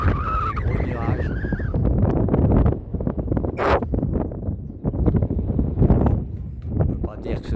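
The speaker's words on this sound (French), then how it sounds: "Voilà le vent." Strong gusting wind at a sheltered anchorage in Mahon harbour, Menorca, in February, heard from a small sailboat: rough, roaring bursts buffeting the microphone, with a brief voice near the start.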